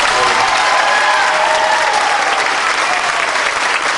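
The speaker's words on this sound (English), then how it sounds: "I want you to give her a big round of applause." Full crowd applause for a dancer at a Dancing With The Stars of Auburn event, loud, dense and steady throughout with no pause.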